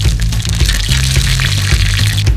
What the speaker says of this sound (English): Cooking sound is amazing.